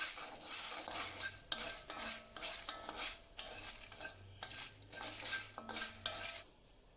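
Coriander seeds, cumin, fennel, peppercorns, dried red chillies and Kashmiri chillies dry roasting in a metal kadai, a ladle scraping and rattling the spices in repeated brisk strokes, close and clear.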